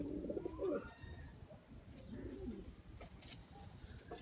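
A Sialkoti pigeon coos softly several times at close range, low throaty calls over faint background rustling.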